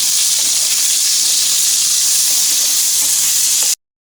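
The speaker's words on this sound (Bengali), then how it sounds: "পেঁয়াজ, পেঁয়াজগুলো লাল লাল করে ভেজে নেব" Onions sizzle and fry steadily in hot oil in a pan for chicken and potato curry, a loud continuous hiss with no talk, then it cuts off abruptly near the end.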